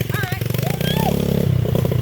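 A child's dirt bike engine runs steadily with a buzzing, pulsing drone while people talk over it outdoors.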